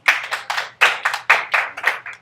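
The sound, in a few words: classroom applause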